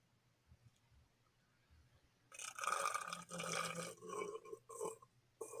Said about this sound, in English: He burped into the bottle?